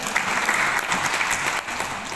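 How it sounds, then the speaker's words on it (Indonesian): An audience at a talk on multiple intelligences applauds in a steady burst of clapping from many hands, fairly dense and even, fading slightly toward the end. "Tepuk tangan dong."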